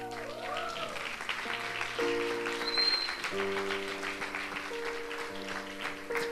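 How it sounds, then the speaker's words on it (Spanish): Church audience applauding the people seated at the back, a steady wash of clapping over sustained organ or keyboard chords playing throughout, moderately loud and continuous. "Denle un aplauso a los de atrás."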